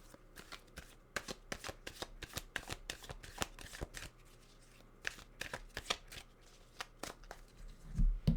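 Tarot cards shuffled by hand in a steady run of crisp riffling flutters, close and fairly quiet, with a slightly louder burst near the end and no talking.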